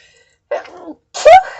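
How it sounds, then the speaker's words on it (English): A single close, loud human sneeze: a short indrawn breath followed by a sharp explosive burst. "I think I sneezed on every reading today"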